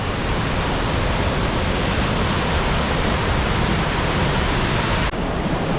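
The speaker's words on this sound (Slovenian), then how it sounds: "Evo, tle je že prvi slap, se imenuje Zagon." The Zagon waterfall, the first falls along a stream trail in Istria, roars in a steady, dense broadband rush that stays loud and unbroken throughout, heard up close with no voices over it.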